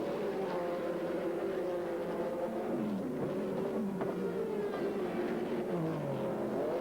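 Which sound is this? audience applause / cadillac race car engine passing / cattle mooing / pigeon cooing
cadillac race car engine passing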